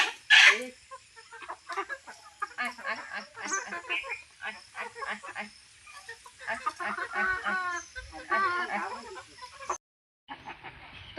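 Chickens cluck and squawk in a flurry while someone tries to catch them by hand, loud agitated calls packed close together, then a short break before more clucking.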